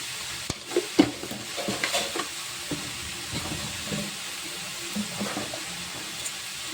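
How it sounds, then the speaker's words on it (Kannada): Onion fries in a pan with a steady sizzle and occasional stirring scrapes and clinks, close and moderately loud, with no talking. "ಈರುಳ್ಳಿ ನೀಟಾಗಿ ಫ್ರೈ ಆಗಬೇಕು"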